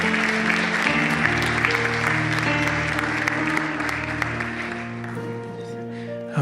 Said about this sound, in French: Une bonne main d'applaudissement encore pour la famille.